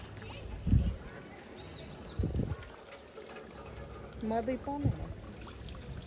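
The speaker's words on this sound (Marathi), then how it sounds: "हे बघा हे पाय धुवून घेत आहे" Tap water splashes in short bursts as feet are washed outside a goddess temple. Faint trickling runs between the splashes, and people talk nearby.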